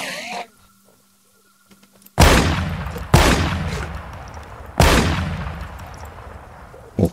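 A shotgun fires three loud, booming blasts in the Minecraft video game, each followed by a decaying rumble, with roughly a second between shots after a near-silent stretch.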